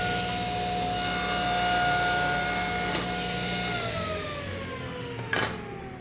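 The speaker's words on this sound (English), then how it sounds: "Now I've got a stop set up so I can cut the boards to the exact length." A power saw cuts wooden boards to an exact length against a stop, with a sustained high, tonal whine that sags in pitch as the blade takes the load, and a short knock near the end. No one speaks.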